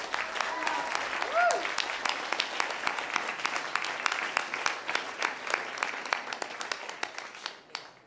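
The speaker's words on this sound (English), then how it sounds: "a big round of applause for all of our incredible speakers tonight" Fairly faint applause from an evening speakers' event audience, scattered individual claps forming a steady patter, with a brief voice audible near the start.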